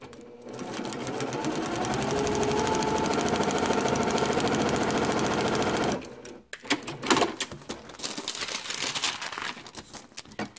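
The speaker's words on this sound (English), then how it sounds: "Flip that over and sew that long seam" Sewing machine stitching a long quilt seam, a fast steady mechanical rattle running for about six seconds, then stopping and giving way to brief bursts of stitching and handling noise.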